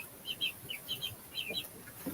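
Young bantam chicks chirping in a cage, several short high peeps coming in quick bursts throughout, fairly quiet and with no talking.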